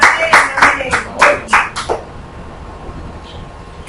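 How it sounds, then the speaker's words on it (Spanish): About six sharp hand claps in quick succession, loud and close, followed by a couple of seconds of quiet room noise. "Acabo de dar un aplauso"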